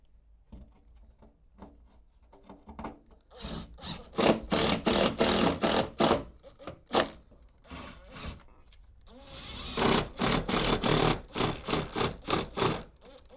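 Screws being driven to secure the top of a RAB42MG Quick Snap wall sleeve: repeated whirring bursts from a driver, some long and steady, others short and choppy, close and fairly loud with quiet gaps between.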